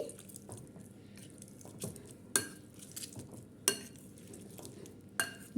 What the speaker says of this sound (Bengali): এখন একটা ম্যাশার দিয়ে আমি ম্যাশ করে নিচ্ছি